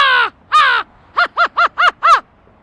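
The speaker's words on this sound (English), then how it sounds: "American crow." An American crow gives harsh, loud caws, two drawn-out calls followed by a quicker run of five shorter ones, close and clear with no talk.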